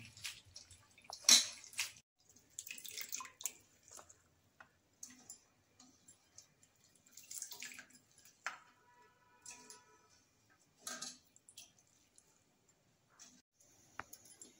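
Quiet splashing and swishing of water in a bowl as banana flower is rinsed, with soft irregular drips and wet handling sounds close by, no talking.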